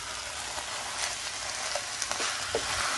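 Lamb karahi with quartered, de-seeded tomatoes sizzles in a pan while being stirred, a continuous close frying hiss punctuated by a few light scrapes and taps of the spoon.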